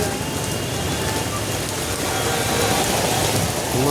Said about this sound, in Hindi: लो भाई झमाझम बारिश हो गई भाई, ऐसी बारिश हो गई देखो